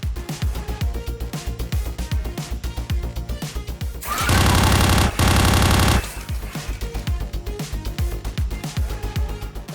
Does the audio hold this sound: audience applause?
no